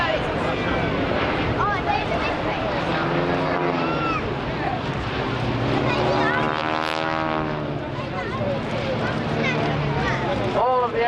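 A Fairey Swordfish biplane, W5856, flies past at the Blackpool air show with a droning propeller engine, rising and falling as it passes, under steady public-address commentary.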